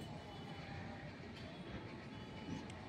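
A train runs along the line toward Panvel, passing as a steady broadband rumble with faint rail clatter that holds at a moderate level for the whole stretch.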